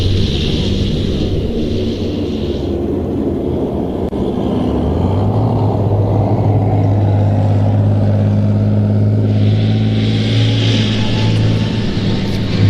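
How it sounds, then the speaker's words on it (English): Leopard 2A4 main battle tank accelerating at an outdoor military show, a loud heavy engine roar that rises and holds, with a hiss of tracks or turbine at the start and end. "Accelerating in now to take centre stage, the Leopard 2A4 main battle tank."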